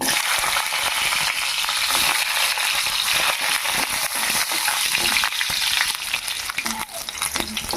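Ingredients sauté in a pan for a homemade kalyana murungai (Indian coral tree) leaf pickle or thuvaiyal, a loud, steady broadband sizzle with stirring scrapes throughout, no talking.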